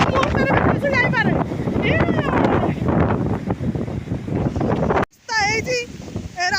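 Strong gusting wind buffets a phone's microphone outdoors during rain, a loud rough rumble that runs almost throughout under a person talking, with a brief drop near the end.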